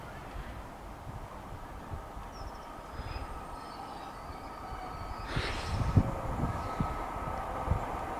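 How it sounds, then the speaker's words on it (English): A passenger train moves slowly through Grantham station on the East Coast Main Line, a faint low rumble and wheel clatter with soft thumps over joints, distant and steady under outdoor wind noise. "Appears to be going rather sluggishly for a passing train through here."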